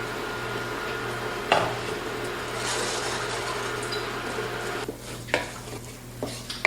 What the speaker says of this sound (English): now I'm gonna add my flour and stir vigorously